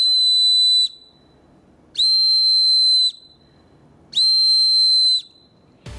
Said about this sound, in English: This is where safety whistle comes in.